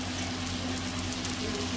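Dalle chilli peppers fry in a pan, giving a dense, steady, close sizzle that fills the whole stretch without voices.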